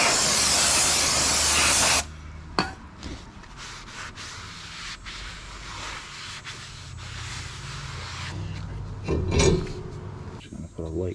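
Aerosol cleaner sprayed onto a front brake rotor of a 2021 Ford Ranger 4x4 in a loud, steady hiss for about two seconds, followed by quieter shop handling noises and brief clanks.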